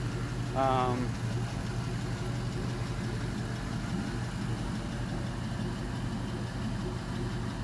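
An LM7 5.3L V8 engine on a test stand idles with a low, steady rumble for the whole stretch, and a short voice is heard briefly near the start.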